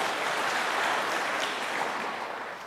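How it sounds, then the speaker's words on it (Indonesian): Steady applause from a church congregation during a service, dense clapping sustained throughout at an even level before easing slightly at the end. "Tepuk tangan bagi Tuhan Yesus."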